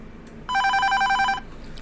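A telephone rings on a Greek call-in radio show, one loud electronic trill burst lasting about a second, close and clear over faint background hiss.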